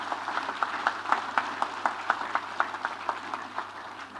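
A congregation at an ordination Mass claps for a newly ordained archbishop, a steady run of crisp hand claps at a brisk, even rhythm that carries on for several seconds at moderate volume.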